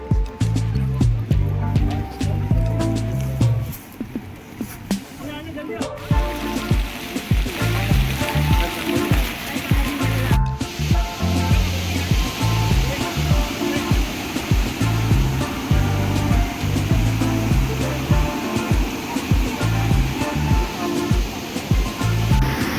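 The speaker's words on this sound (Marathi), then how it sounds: "खूप पाऊस चालू आहे" Heavy monsoon rain pours through a forest in the Kundalika valley on the Andharban jungle trek, a loud, dense, steady roar of water throughout, with rushing stream flow mixed in and brief gaps in intensity.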